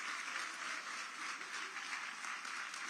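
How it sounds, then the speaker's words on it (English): An audience applauds steadily for volunteer affiliate leaders who recruit and train mentors, a dense, even patter of clapping at moderate distance with no voices over it. "let's give them a large round of applause, y'all"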